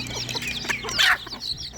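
Local hens and roosters cluck and squawk in quick, scattered calls close by, with one louder cackle in the middle.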